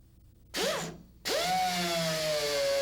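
Two close, loud bursts of a power drill boring bolt holes through a RotorWay 162F helicopter clevis: a short spin-up and stop, then a longer steady whine after a brief pause, with no speech.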